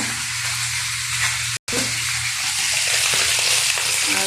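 Small chopped prawns, potato and vegetable stalks fry in a pan with a loud, steady hiss and sizzle, a brief cut of silence breaking it early before the frying resumes unchanged.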